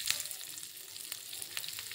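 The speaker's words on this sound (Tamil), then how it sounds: "ஃப்ரை பண்ண ஆயிலையே லைட்டாக இந்த கறிவேப்பிலையை வந்து பொரிச்சு எடுத்துடுங்க." Curry leaves frying lightly in oil left over from frying stingray fish, a soft, steady sizzle with scattered small pops, fairly faint and continuous.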